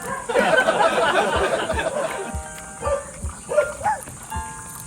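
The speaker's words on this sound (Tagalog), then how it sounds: "Ayun, may aso pa. May aso." A dog barks a few times at moderate distance amid busy outdoor background noise and people chattering nearby during a family nature trip in the Philippines.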